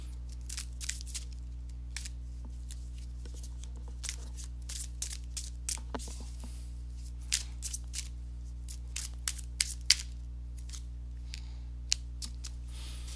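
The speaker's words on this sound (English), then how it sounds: "So let me go ahead and give these cards a shuffle." A deck of tarot-style reading cards gets shuffled in short, crisp bursts of riffling and sliding, fairly faint and close, scattered irregularly over a steady electrical hum, with no talk.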